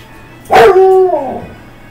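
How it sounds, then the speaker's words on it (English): A dog gives one loud, drawn-out bark that trails into a whining yelp, close by indoors with no talking. "Don't bark at me."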